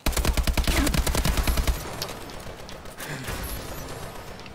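Rapid automatic gunfire in Call of Duty: Advanced Warfare multiplayer, a dense burst of loud shots for the first couple of seconds, then lighter scattered shots and game noise.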